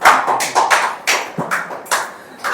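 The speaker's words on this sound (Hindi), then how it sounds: "जिसको भी नींद आ रही जोर से ताली बजा।" Loud rhythmic hand clapping from a church congregation at a Hindi worship service, a run of distinct close claps in a slightly uneven beat.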